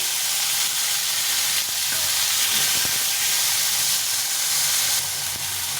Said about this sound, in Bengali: আর একটু তেজপাতা দিয়ে টমেটোটা ভেজে নেব